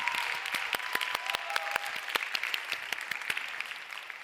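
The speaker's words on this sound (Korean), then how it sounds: "우리 콘팅 팀 위해서 박수로" A church youth worship congregation claps for the content team, a continuous bright patter of many hands with sharp individual claps standing out, steady and moderately loud.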